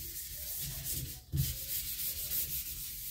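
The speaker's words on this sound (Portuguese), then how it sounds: "Aí você vem com a última lixa que você lixou, que é a 600 no caso aqui" Fine 600-grit sandpaper rubbed by hand over a Volkswagen T-Cross car body panel during paint prep, a steady close scratchy rasp with a brief pause and a sharper stroke partway through.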